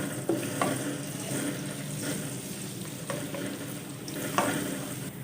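Garlic paste frying in hot oil while being stirred, a continuous close sizzle broken by repeated scraping strokes of a spoon against the pan.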